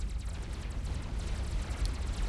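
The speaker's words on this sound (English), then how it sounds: "Those were the explosions that you heard." Dense, rumbling explosion sounds roll together continuously in the strategy game Supreme Commander: Forged Alliance, a heavy low boom texture without a clear break.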